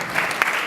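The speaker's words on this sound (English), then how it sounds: "Give her a very big applause." A short burst of audience applause at a formal event on electoral integrity and accountability, with dense steady clapping for under a second.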